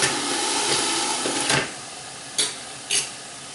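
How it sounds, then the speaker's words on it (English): Broth is added to greens in a hot pan, giving a burst of hissing sizzle that settles into gentle frying, then two short sharp sizzling bursts near the end. "I'm gonna add a smidge of broth. Just to help them cook down more."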